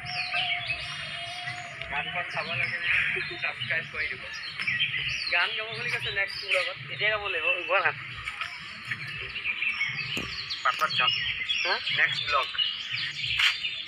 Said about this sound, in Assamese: একদম গছৰ চৰাই চিৰিকটি আৱাজ চাউণ্ড